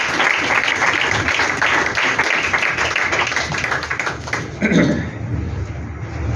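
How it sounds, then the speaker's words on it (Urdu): A church congregation applauding the choir during a Sunday worship service, a loud, steady burst of many hands clapping that thins out near the end, with a voice briefly heard. "کوائر کے لیے بھی زوردار تالیاں بجائیں."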